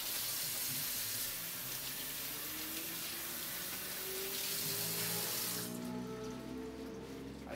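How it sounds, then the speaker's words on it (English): Water from a running tap rinses a juice press bag, a steady broad hiss of flow with splashing that continues alone for several seconds before easing and changing tone near the end. "I usually just rinse out the bag after each one."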